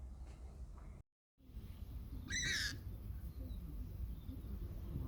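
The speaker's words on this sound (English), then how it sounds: "These are very strange birds. They're like giant moorhens." Strange flightless birds resembling giant moorhens in New Zealand give a short, loud squawking call amid steady outdoor wind and background noise, with a brief dropout before it.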